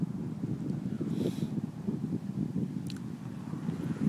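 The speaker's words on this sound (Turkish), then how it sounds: "güzel rüzgar var" Wind gusts across a hillside village above Lake Iznik, buffeting the microphone as a steady low rumble that swells and eases, with no voices.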